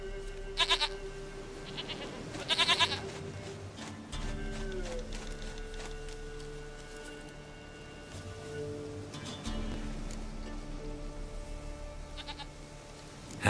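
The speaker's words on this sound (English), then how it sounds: "Goat of mine, dearest, sweetest goat." Faint goat bleats from The Witcher 3 come in a few short bursts over a low, steady game ambience, with no talk.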